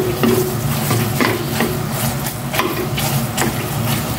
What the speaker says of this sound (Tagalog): Prito ko naman na siya.